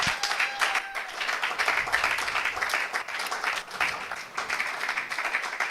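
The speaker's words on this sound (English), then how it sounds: "Is that how you will clap?" Audience applause fills a hall at a 2025 impact investing convening, a dense, steady clatter of many hands clapping without pause for about six seconds.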